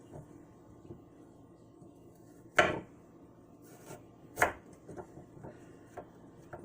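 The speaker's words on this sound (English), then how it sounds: "And we're just going to cut slices." A knife cuts through a carrot on a cutting board in a few sharp, separate chops, close and fairly quiet, with light rubbing sounds between them.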